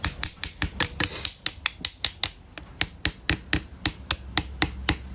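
Sharp metallic hammer taps on the carburetor of an M715 military truck, a quick, fairly regular series of about two dozen close, ringing strikes, with no talking.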